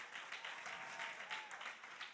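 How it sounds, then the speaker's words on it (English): Audience applause at a church gathering, a steady wash of many hands clapping, fairly distant and even throughout, with no voices over it. "Clap your hand for special catered food"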